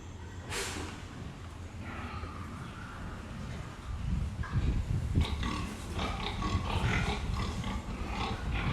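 Pigs of the same age grunt and snort in a fattening barn room, a steady close chorus of low grunts that grows louder and busier partway through, with occasional higher squeals.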